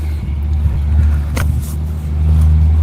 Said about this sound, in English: we got a lot of trucks going by, a lot of activity